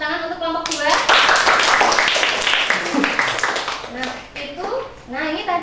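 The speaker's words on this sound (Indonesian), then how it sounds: "tepuk tangan untuk kelompok 2" Classroom clapping for a student group during a mathematics microteaching lesson, a burst of many hands for several seconds that thins out, with the teacher and students talking over it and after it.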